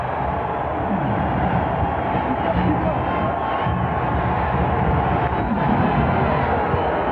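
Steady roar of a basketball arena crowd during a 1999 NBA playoff game, Suns at Trail Blazers in Portland, cheering loudly and continuously throughout with no breaks.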